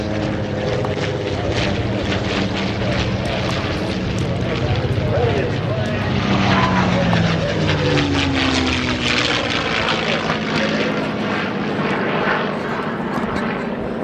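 Propeller airplane flying overhead during a WWII reenactment airshow at Oshkosh, Wisconsin, a steady loud engine drone sustained throughout with a crowd and announcer's voice mixed in.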